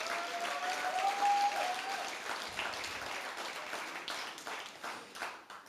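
An audience applauds steadily, a dense wash of many hands clapping at moderate volume with no voices standing out.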